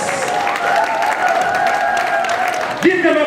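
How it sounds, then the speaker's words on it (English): Applause from a crowd at a hospitality training programme graduation ceremony in Central Jamaica, a steady dense wash of clapping lasting throughout, with a voice carrying over it and shifting pitch near the end. "Please join me today in giving them a rousing round of applause and congratulations."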